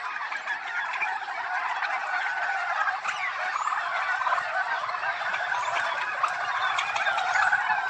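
Many male turkeys gobble at once on a farm in a dense, steady chorus, the rattling calls overlapping without pause.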